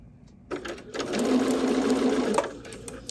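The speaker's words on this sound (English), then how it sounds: "I'm sewing just to the side of there, making sure everything's flat and pretty." A sewing machine stitches beside a seam on fabric while gathering feet, running steadily for about two seconds after a few short starts, close and moderately loud.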